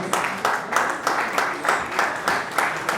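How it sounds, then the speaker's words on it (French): An audience at a trophy ceremony claps for the Mamboté Foundation in a steady, rhythmic beat, loud and close, with voices mixed in. "Applaudissez pour la fondation Mamboté ce soir."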